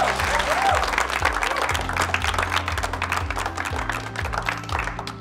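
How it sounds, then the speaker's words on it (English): Audience applause for the top 20 contestants of a South African business competition, loud sustained clapping under a rhythmic music bed, with no talk. "Give yourself a massive round of applause for getting it this far."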